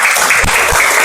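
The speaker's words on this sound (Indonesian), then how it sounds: "Kasih tepuk tangan karena sudah berani mempresentasikan hasil diskusi kalian di depan" Students applaud in a classroom after a group presents its discussion results at the front, a steady wash of clapping that fills the whole short moment with a couple of low thumps.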